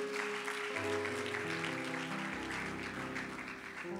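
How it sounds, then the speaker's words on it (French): A church congregation claps and applauds for the Lord during a worship service, a steady wash of clapping blended with sustained organ or keyboard chords throughout. "Acclame pour le Seigneur, acclame pour le Seigneur"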